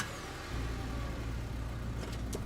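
A police squad car engine hums steadily in the horror adventure game Scarlet Hollow, a mid-pitched motor drone that swells slightly after a moment and continues evenly without speech.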